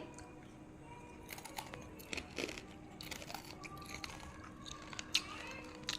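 Crunchy chewing of crispy fried fas leaf vadi, faint close bites and crackling crunches scattered irregularly over a quiet background, with no talk.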